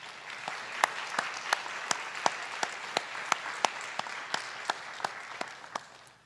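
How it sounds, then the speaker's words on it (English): Sparse applause from a meeting audience, with sharp individual claps in a steady rhythm of roughly three per second that fades over about six seconds, heard indoors at moderate distance. "So, round of applause for Meredith."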